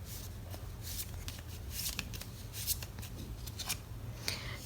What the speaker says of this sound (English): I'll shuffle a few cards for you on camera.